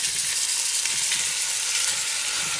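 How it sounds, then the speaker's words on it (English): Flour-coated beef chunks browning in a pot for homemade beef stew give off a steady, loud, continuous sizzle that holds even throughout, with no voices. "We want to kind of caramelize the meat a bit and just get it nice and brown."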